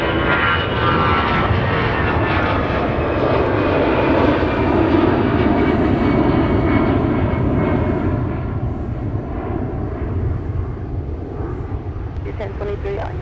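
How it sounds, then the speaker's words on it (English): American Airlines jet airliner taking off toward Charlotte from Minneapolis–Saint Paul airport, a loud, steady broadband engine roar that holds for several seconds before easing slightly, with faint radio chatter underneath. "here's American Airlines off to Charlotte"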